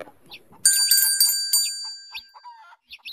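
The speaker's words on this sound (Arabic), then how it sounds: "شوف الجرس ده جميل ازاي وصوته عالي وجميل" A small bell rings several times in quick succession, bright and close, among soft clucking and rustling from nearby chickens.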